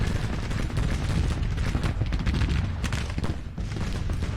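Artillery canister fire and musketry rumble through a Civil War battle in Grand Tactician, a dense continuous wash of overlapping booms and crackling shots at middle distance with no talk.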